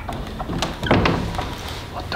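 A door is pushed open with a dull thunk and a brief rattle partway through, over a noisy, busy background.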